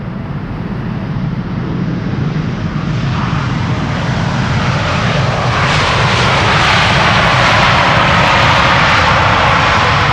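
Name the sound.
Boeing 787 Dreamliner landing with thrust reversers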